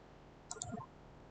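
A computer mouse gives a pair of quick, faint clicks in an otherwise quiet room.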